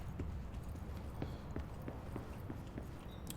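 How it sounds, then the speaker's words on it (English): Horse hooves clip-clop at a walking pace in the video game Control, a steady, faint, distant rhythm of hoof strikes over a low background rumble. "There's some cowboys on horses"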